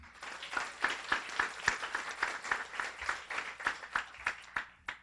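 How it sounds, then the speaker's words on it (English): An audience at a Guiding Eyes for the Blind graduation ceremony gives a round of applause, a steady, moderately loud patter of many hands clapping with rhythmic peaks, heard without talk. "So let's give a round of applause for Amy."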